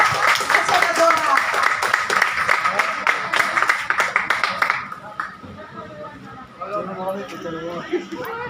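An audience claps for a senator at a gathering, a dense, loud burst of applause for about five seconds that stops abruptly, followed by people talking nearby.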